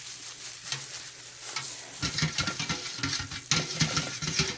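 A handheld stick blender churns homemade soap batter of lye water and oils, starting soft and then breaking into busy, irregular sloshing and whirring bursts close by.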